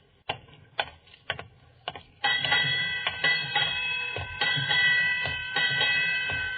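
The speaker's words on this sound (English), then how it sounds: "8 bells." Ship's bell ringing eight bells at midnight on a vessel off the Sicily Isles on New Year's Eve: a handful of sharp metallic strikes, then a sustained ringing tone with more strikes layered over a steady background hum.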